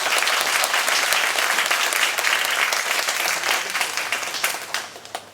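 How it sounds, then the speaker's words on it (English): Audience at a Chinese University of Hong Kong public talk applauding as the Buddhist monk Ajahn Brahm is welcomed, dense sustained clapping from a large crowd that fades slightly toward the end. "please join me in giving Ajahn Brahm a round of applause"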